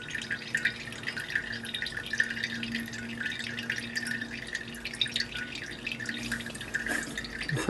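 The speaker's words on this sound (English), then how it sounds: "just lift and lift slowly to allow coffee to drain out of there" Cold brew coffee drains and drips from a lifted filter bag, a steady close patter of liquid falling into a container with no talking.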